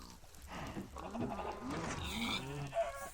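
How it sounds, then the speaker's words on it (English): Minecraft farm animals on a mob farm, with chickens, cows, sheep and pigs, bleat and cluck faintly amid a steady hum of overlapping game sounds, with no clear talk. "so it has like chicken and cows and sheep and pork. All in one."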